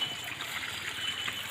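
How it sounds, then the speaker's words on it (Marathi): A rain-swollen village stream flows nearby in a brief, steady rushing trickle with no other sounds. "हा बघा पाणी बघा कसला वाहता मस्तपैकी."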